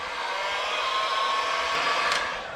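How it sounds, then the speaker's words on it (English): Heat gun blowing a steady stream of hot air to shrink tubing onto a cable during wooden boat restoration work; a continuous close whoosh holds for a couple of seconds, ending in a small knock. "cinch it up with the heat gun"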